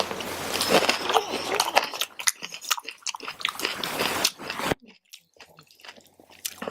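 Close-up chewing of tofu fried rice with crunchy green pepper, wet crunchy bites and mastication sounds coming in irregular bursts, loud and near, with a short silent gap partway through.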